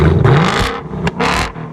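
A Ford Mustang GT with an H-pipe exhaust and its active exhaust valve open revs up loud and close, a deep surging roar that rises, dips briefly, then swells again before fading.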